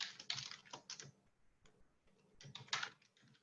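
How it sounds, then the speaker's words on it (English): Computer keyboard typing comes in two quick bursts of soft, close clicks, with a short pause between them and nothing else in the background. "I'm just going to click on text box, click on my slide, and it will allow me to start typing"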